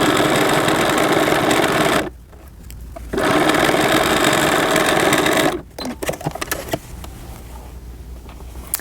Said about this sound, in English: So you're just going to sew that down at 1/4 of an inch.